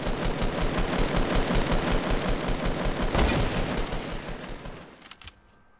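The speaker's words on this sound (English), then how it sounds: "I'm literally just hit firing shots at them to make them panic." Rapid automatic gunfire in Fortnite rattles in a loud, sustained burst with one sharp louder crack midway, then fades to silence.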